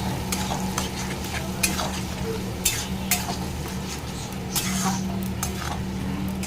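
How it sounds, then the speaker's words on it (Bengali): Egg frying with vegetables in a pan, a continuous sizzle under repeated spatula scrapes and clinks against the metal, close and fairly loud. "সব কিছু দিয়ে ভেজে নিচ্ছি কিছুক্ষণ ভাজবো ভালো করে"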